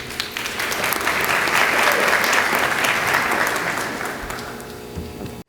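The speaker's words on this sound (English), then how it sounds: "We applaud you." A crowd claps for graduates at a college commencement ceremony. The applause is loud and close, swells through the middle, then tapers off and cuts out at the end.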